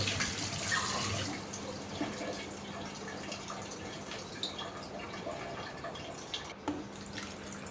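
Rice being rinsed in water before cooking, with sloshing and gentle splashing that is strongest at the start, then softer swirling and occasional drips close by.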